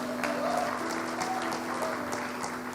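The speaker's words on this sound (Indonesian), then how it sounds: "Tepuk tangan dulu dong buat Kak Heni." An audience at a church gathering claps for Kak Heni, a sustained, even patter of many hands with a faint tonal hum and brief whoops running underneath.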